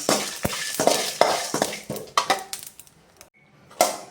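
Roasted quail thokku spices scraped and tipped into a small mixer jar, with metal spoon clinks and taps against the jar and pan, several sharp knocks and scrapes, close by and without talk.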